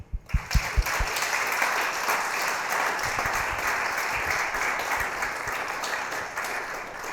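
An audience applauds to welcome Professor Melanie Bussey at her inaugural professorial lecture: a few loud single claps first, then a full, steady wash of applause that carries on evenly for several seconds.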